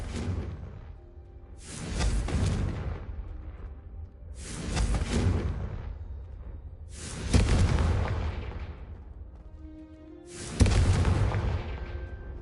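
Bombarda and Confringo spell explosions in the Hogwarts Legacy video game: five heavy booming blasts in a row, each with a swooshing attack and a long rumbling decay.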